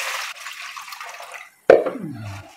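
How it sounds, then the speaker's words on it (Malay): Water splashes and drips into a metal steamer pot being readied to steam lemang of glutinous rice, a short burst of pouring and trickling after a quiet moment, close and fairly loud. "So dalam alat pengukus ni kita letakkan air."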